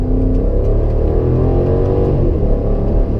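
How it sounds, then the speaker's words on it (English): A BMW X5 xDrive50i M Sport engine revs after a paddle-shift downshift, a loud, close, sustained V8 drone with shifting pitch over constant road rumble. "So I give it a nice downshift there, and let's see how it is."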